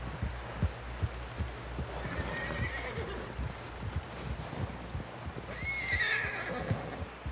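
Horse in the Red Dead Redemption 2 video game, a whinnying neigh twice over a steady rhythmic clip-clop of hooves, with low rumbling ambience underneath.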